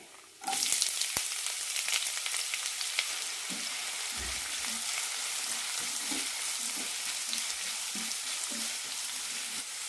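Sliced onions and curry masala sizzle in two tablespoons of hot oil in a pan, a steady close frying hiss with occasional soft stirring knocks throughout.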